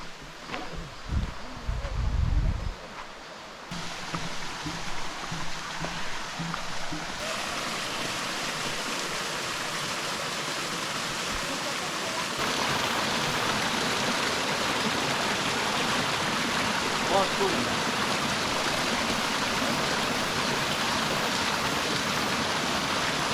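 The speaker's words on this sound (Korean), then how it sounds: "직진하여 백년 폭포를 한번 들려보도록 하겠습니다." Rushing water from a stream and a waterfall, the Baeknyeon waterfall on an autumn trekking trail, gives a continuous broadband roar that grows fuller and louder partway through, with a few brief handling knocks at the start.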